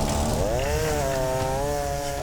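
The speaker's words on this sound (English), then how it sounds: "uses a chainsaw to carve up the ice" A chainsaw roars loud and close, its pitch rising and wavering steadily as it cuts blocks of thick ice around a trapped truck during a winter highway recovery.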